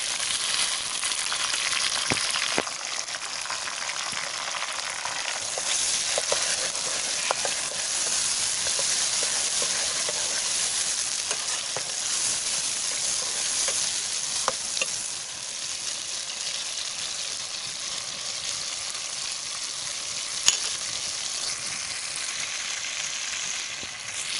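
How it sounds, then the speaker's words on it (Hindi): Chopped tomatoes frying with golden brown onions for a teetak sabzi, a steady loud sizzle with occasional stirring clicks and spatula scrapes throughout. "प्याज हमारे गोल्डन ब्राउन कलर के हो गए हैं तो अभी हम इसके अंदर ये टमाटर डालेंगे।"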